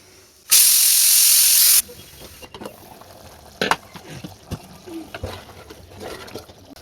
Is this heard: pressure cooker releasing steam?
yes